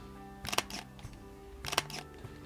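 A Leica M11 rangefinder shutter fires twice, each release a brief, crisp double click about a second apart, fairly quiet over a steady low background hum.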